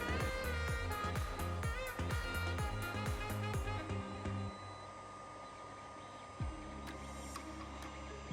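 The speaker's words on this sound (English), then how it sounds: "I used my wife's old hair dryer to dry off the parts" An old hair dryer blows steadily with no heat, drying off freshly washed 3D printed parts; a continuous close airflow roar with rhythmic mechanical ticking in the first half, then a smoother steady blast.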